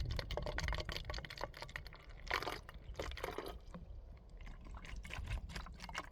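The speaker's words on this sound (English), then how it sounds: "I'll put a little bit of extra water in here." Water trickles and glugs quietly into a bottle outdoors on a Pacific Crest Trail hike, with soft irregular splashes and handling clicks, close and faint.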